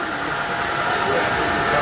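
An N-gauge Denver Rio Grande model railroad runs around a layout at a toy train operating museum in Tucson, Arizona, giving a steady, close whirring rumble that continues without a break.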